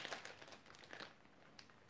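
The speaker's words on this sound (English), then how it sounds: "we're going to open this up with my trusty pair of scissors" Plastic candy packaging of Irish Maltesers crinkles and rustles closely as it is cut open with scissors, a continuous crackly handling sound with small sharp snips.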